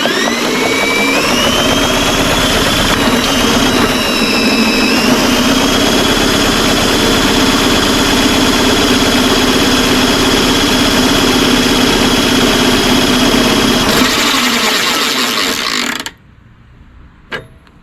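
A power drill whirs as it turns over a hydrolocked MTD mower engine, pitch rising at first and then holding a steady loud whine before stopping abruptly.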